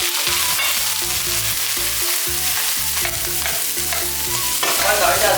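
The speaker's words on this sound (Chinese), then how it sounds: "先把五花肉炸出油" Pork belly fries in hot oil in a wok with a loud, crackling sizzle, stirred in uneven bursts with scraping and clattering, close up and with no talking.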